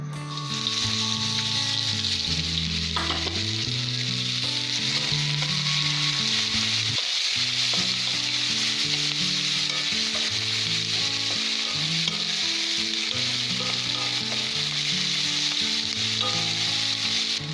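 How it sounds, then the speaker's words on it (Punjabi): Cumin and onions sizzle in a pan for baingan bharta, a loud steady frying hiss with repeated stirring scrapes throughout, close up and uninterrupted by speech. "ਜਦੋਂ ਆਪਣਾ ਜੀਰਾ ਹਲਕਾ ਜਿਹਾ ਬਰਾਊਨ ਹੋ ਗਿਆ ਫਿਰ ਤੁਸੀਂ ਉਸ ਦੇ ਵਿੱਚ ਪਿਆਜ਼ ਪਾ ਦੇਣੇ ਆ"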